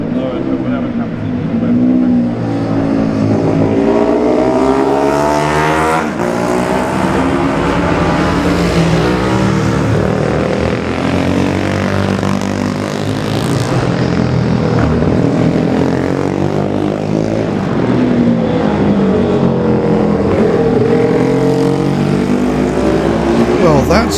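Classic racing motorcycles, including Hondas and a Velocette, race past at speed in the 2018 Classic TT Junior race on the Isle of Man. Their engines wail steadily, rising and falling in pitch as the bikes pass, while a commentator talks throughout.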